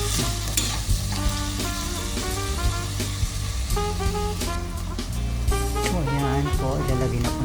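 Shrimp sautés in a pan, a continuous close sizzle with stirring scrapes and clatter; tonal background sound runs underneath.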